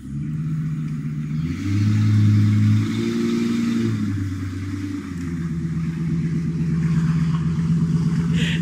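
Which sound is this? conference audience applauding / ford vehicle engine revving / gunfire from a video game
ford vehicle engine revving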